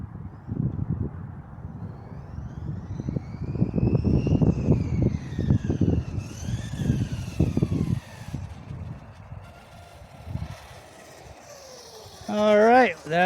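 An RC speed car running on Turnigy batteries whines past in rising and falling pitch sweeps, buzzing loudly near then fading, with a sharp high-revving burst near the end and a voice speaking over the early part.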